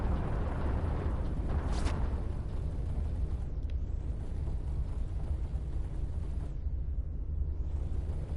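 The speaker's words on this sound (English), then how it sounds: "No, I am being sniped." Sniper shots striking a spaceship in the space combat game Everspace, heard as a continuous roaring, rumbling barrage with a sharp impact burst near the start and a couple of brief hissing cutouts later.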